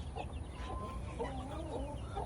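Chickens at a rural ranch house cluck in short, uneven calls close to the microphone, with a steady low background noise running underneath.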